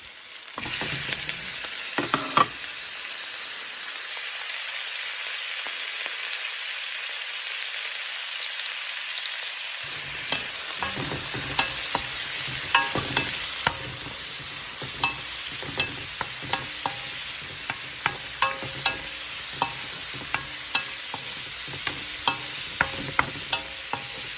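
Garlic and onion with shrimp stir-fry in a pan for a vegetable stir-fry, giving a steady, close, loud sizzle with frequent sharp clicks and scrapes of stirring throughout, and no talking.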